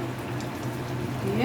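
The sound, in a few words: lentil and poppy-seed curry boiling in pan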